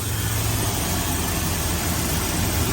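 A BMW engine idles with its electric cooling fan running, a steady, loud, close hum with a low rumble and a constant airy whir, no voices.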